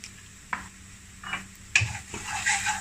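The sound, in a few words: sauteing coriander, cumin and red chili powder spices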